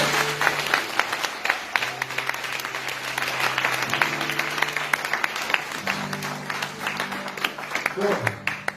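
A church congregation applauds in sustained, dense clapping, with voices rising over the applause from time to time.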